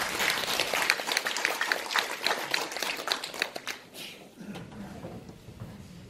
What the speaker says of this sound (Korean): 박수 한번 드립니다.